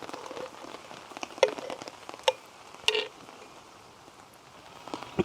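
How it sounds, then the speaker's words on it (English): Rain patters steadily at a wild campsite in Wales, a soft continuous hiss with a few sharper drips striking nearby surfaces, and no voices. "rain is coming down now"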